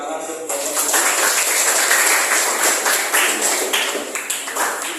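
A classroom of students claps for a student group, a sudden burst of dense, bright applause that holds steady for several seconds with some voices mixed in.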